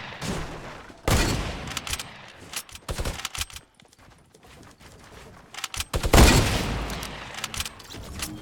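Gunshots in a western shooter, with sharp loud cracks and short bursts of fire scattered irregularly, two especially heavy blasts standing out, and quieter gaps between them.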